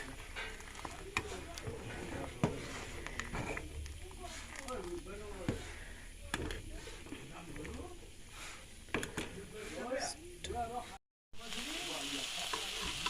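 Steady sizzling and crackling of pork frying in a pan, with stirring scrapes throughout and a brief dropout near the end.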